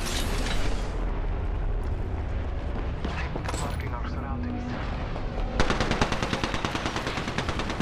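Rapid automatic gunfire and shots in the Apex Legends battle-royale shooter on Xbox One, dense bursts throughout with a sharp, steady machine-gun rattle near the end, players talking over it.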